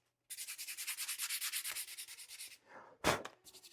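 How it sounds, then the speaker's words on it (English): Sandpaper rubs rhythmically over a wooden axe handle on a 1928 E&S Pearly Pulsifier Maine wedge, a steady run of close scraping strokes, then a brief pause and a sharper final rub. "Sand it off a little bit."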